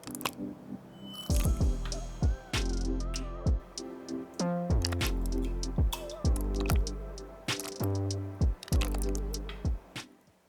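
Thick blueberry honey vanilla jam, made without pectin, is spooned into a glass jar in repeated wet plops and squishes, with spoon clinks against the glass at an uneven rhythm, close and clear.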